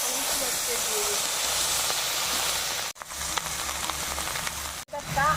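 Bay leaf and cumin sizzle in hot oil for katla fish kalia, a loud, steady hiss close by that cuts out sharply twice and then returns.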